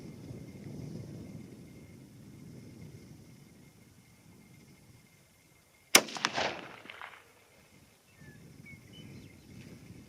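A single 22-ARC hunting rifle shot cracks out sharply after a quiet stretch, followed by a short rolling echo that fades over a couple of seconds before faint background sound returns.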